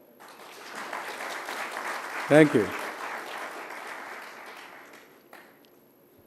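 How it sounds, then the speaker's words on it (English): Audience applause at a conference gathering of Indian and international delegates, a broad sustained wash of clapping swelling and fading over several seconds, with a brief spoken thanks partway through. "Is this calls for a big clap or no?"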